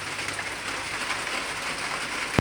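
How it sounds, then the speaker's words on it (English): Steady rain from Tropical Storm Dorian pattering on a surface in Fredericton, New Brunswick, Canada, a continuous hiss with scattered drops, no voices, ending in a sharp tap. "Just been raining here so far."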